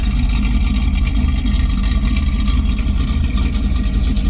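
A 1969 Chevrolet Nova SS V8 with brand-new dual exhaust idles steadily up close, a deep, even rumble that holds without revving.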